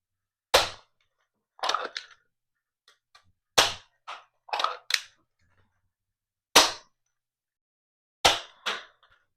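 A Captain Slug YEHW toy blaster fires a series of sharp, loud cracking shots at uneven intervals, about ten pops with silent gaps between, some coming in quick pairs.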